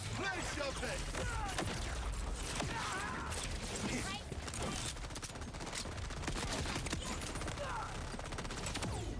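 Turret gunfire from a video game, a dense steady barrage of rapid shots running through the whole stretch alongside mechanical clatter, with voices talking over it.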